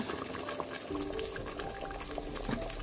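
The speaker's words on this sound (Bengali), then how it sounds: "এখন আমি এটাকে দিয়ে দিচ্ছি ডাবল ক্রিমটা" Double cream poured into a pan of butter chicken, a gentle liquid pour over soft bubbling simmer, close and quiet, with no talk.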